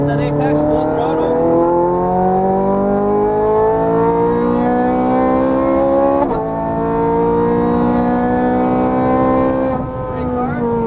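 A Ferrari 430 Scuderia engine at full throttle on a track, a loud sustained rising wail with steady climbing pitch, a brief dip around the sixth second, then revving back up before easing near the end; a voice talks over it.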